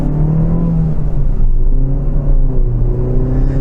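A Citroen DS3 hatchback's engine pulling while driving, a loud, close cabin drone with rising pitch as it accelerates through the revs, steady road rumble beneath and no voices.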